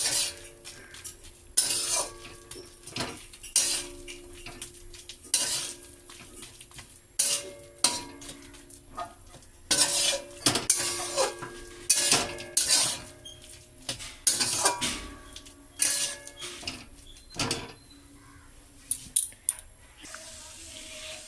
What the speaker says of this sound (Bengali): এভাবে আমি কচুগুলো নাড়াচাড়া করে থাকবো, কারণ নাড়াচাড়া না করলে কচুগুলো নিচে লেগে যেতে পারে।